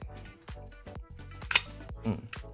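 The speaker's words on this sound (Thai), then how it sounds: "ต่อไปสปีดชัตเตอร์สองร้อย" A film camera's shutter fires at 1/200 s during a repair test, giving a single sharp mechanical click, while someone talks.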